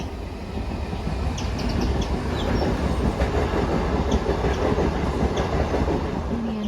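A train rumbles past a closed level-crossing gate nearby, loud and steady, with rhythmic clickety-clack of wheels on the rails and a faint high squeal.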